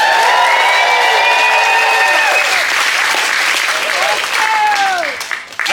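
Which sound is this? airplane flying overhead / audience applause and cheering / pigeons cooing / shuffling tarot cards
audience applause and cheering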